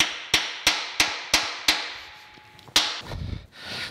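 Mallet or hammer tapping parts of a K&T lathe gear attachment into alignment through a wood block, six sharp evenly spaced knocks followed by faint rustling.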